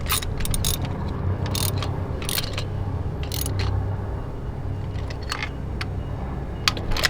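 Ratchet wrench clicking in short bursts while Autolite spark plugs are fitted into a Mitsubishi Evo 10 engine, the sharp ratcheting repeated several times over a low steady hum.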